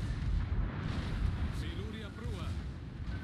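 Heavy naval guns boom and rumble in World of Warships as a Tier 10 Italian battleship, the C. Colombo, trades fire in a sea battle, with dense, continuous blasts and low roars beneath someone talking.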